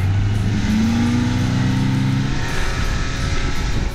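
A Yamaha VMAX SHO outboard motor on a G3 Angler V18 SF fishing boat snarls as the throttle opens, its pitch climbing loudly for about two seconds before settling into a rushing drone.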